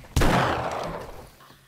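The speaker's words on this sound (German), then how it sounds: "Schüsse in Folge." A gunshot goes off in the survival video game 7 Days to Die, one sharp loud blast that decays over about a second and a half, with no talk over it.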